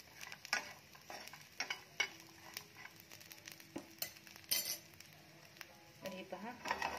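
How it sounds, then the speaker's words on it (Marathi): Dry bombil fish roasting slowly in an iron pan over low flame gives a quiet, intermittent run of clicks, taps and scrapes from stirring over a soft, faint crackle. "मंद आचेवर छान भाजून घ्यायचे आहेत"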